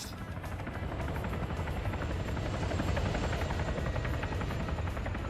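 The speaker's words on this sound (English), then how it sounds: "Except the chopper's going north." A video game helicopter drones on steadily at close range, its rotor chopping in a fast, even pulse under a broad roar with no pauses.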